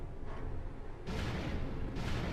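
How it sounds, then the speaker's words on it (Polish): Bombs fired from a weapon in Star Wars Jedi Outcast burst in two loud, broad explosions, the second one longer, over a dense, rumbling game soundscape with no talk. "Po chwili one wybuchają."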